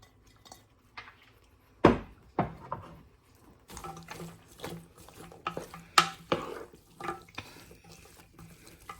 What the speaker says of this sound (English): I have some fresh green beans that I'm adding